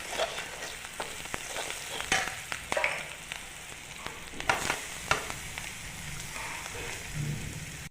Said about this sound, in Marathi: व्यवस्थित हलवून परतून घ्या.